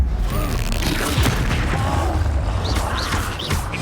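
Expulso blast spell detonating in Hogwarts Legacy, a heavy booming explosion with crashing debris and rumbling low end, loud and close, followed by rising whistling magical effects.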